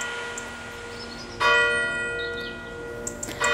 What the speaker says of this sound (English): There's the church bells.